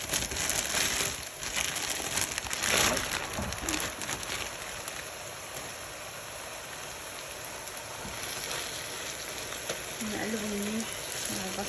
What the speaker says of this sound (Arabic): رح ننزل هلا هي اللحمة عشان يتقلوا يستوي